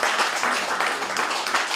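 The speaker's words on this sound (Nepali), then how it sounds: "हामी सबैको तर्फबाट है जोरदार ताली" Audience applause at a Nepali community gathering, a dense, steady wash of many hands clapping at once, fairly loud and continuous without pause.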